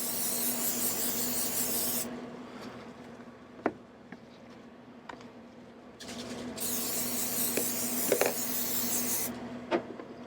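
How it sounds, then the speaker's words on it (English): Canola oil sprayed from a can onto a pork loin, two long hissing bursts of several seconds each with short pauses, close and steady, plus a few light clicks and taps between them. "So I've just got some spray canola oil."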